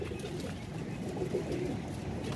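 Pigeons coo softly and continuously in a low, throaty murmur, several birds layered together at close range with no voices over them.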